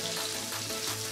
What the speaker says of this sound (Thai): ใส่พริกแกงลงไปนะครับ น้ำมันเริ่มโมโหแล้วนะครับเริ่มเดือดแล้วนะฮะ